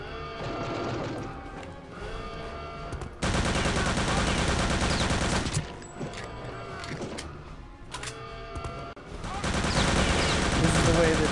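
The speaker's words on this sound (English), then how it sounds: "Mysterious gunshots." Gunfire in Return to Castle Wolfenstein, a World War II shooter, comes as dense bursts of shots and crashes over game music and effects, loud and sustained with brief lulls.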